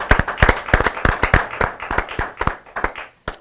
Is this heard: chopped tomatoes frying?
no